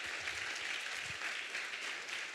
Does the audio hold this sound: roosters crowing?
no